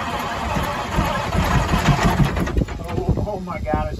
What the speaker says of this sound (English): Chad, if it runs, crank it.